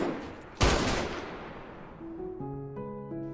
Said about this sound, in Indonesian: Yejin langsung menembak Gang Jai hingga tewas.